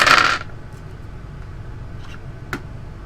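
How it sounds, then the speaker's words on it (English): Dice rattling on a tabletop: a short burst of loud clattering at the start, then quiet with a few faint clicks and one sharp tap. "Get the old rattling dice on the table."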